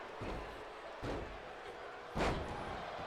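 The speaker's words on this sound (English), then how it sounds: "slamming the knee into the mat" In a wrestling video game, a wrestler slams a knee into the mat, producing three dull thumps over steady arena crowd noise, the last impact the loudest.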